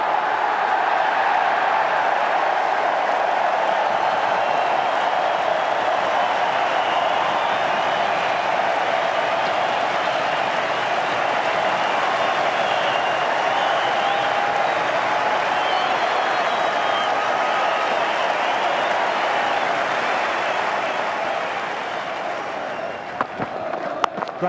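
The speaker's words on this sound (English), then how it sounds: "Home crowd, one of the best ovations you'll ever hear" A home crowd at the WACA cricket ground gives Michael Hussey a long, sustained ovation, dense steady applause and cheering that holds loud throughout before easing slightly at the very end.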